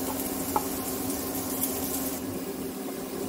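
Chopped onions frying in hot oil in a pan for Mumbai-style kanda poha, a steady, moderately loud hiss of sizzling with a few soft pops, close and continuous.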